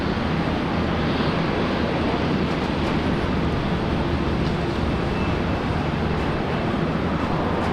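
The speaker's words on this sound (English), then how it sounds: "China Southern coming out now." A China Southern airliner taxis out at Brisbane Airport, a constant broad engine rumble and hiss filling the scene at a steady level with no change in loudness.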